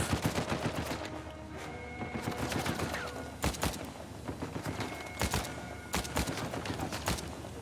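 Gunfire from the video game Uncharted 4 crackles in rapid, repeated bursts of shots, close and loud, with brief sharp blasts punctuating a busy stretch of combat.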